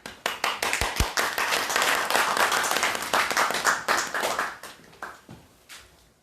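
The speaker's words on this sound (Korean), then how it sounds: "뜨거운 감사와 격려와 응원의 박수를 보내고 싶습니다." An audience at a Truth Forum lecture marking Syngman Rhee's birth anniversary breaks into warm applause, a dense burst of clapping that carries on for several seconds before tapering off.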